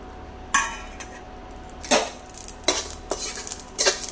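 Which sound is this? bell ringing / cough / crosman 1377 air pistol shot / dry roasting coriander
dry roasting coriander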